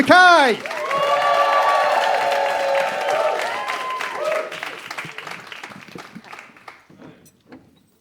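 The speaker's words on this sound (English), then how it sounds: "let's get that clapping going. The whooping and the cheering" Applause with whoops and cheers from a crowd at a poetry slam, starting loud alongside a voice over the speakers, then thinning into scattered claps as it fades.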